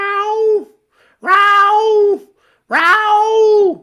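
A human voice imitates cats yowling, with three long, drawn-out, wavering wails separated by short pauses, loud and close.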